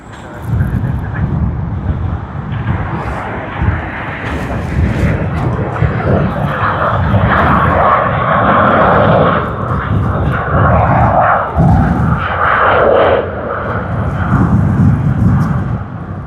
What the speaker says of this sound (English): That means they are going to get the Boeing 747 departing